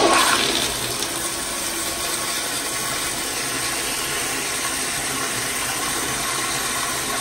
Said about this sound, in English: It's got a long, powerful flush.